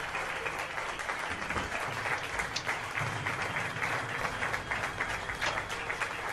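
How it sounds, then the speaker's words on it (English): Steady applause from a concert crowd at a metal show, dense and continuous clapping filling the whole stretch at an even level, with a faint cheer rising through it. "But the crowd's still clapping for you."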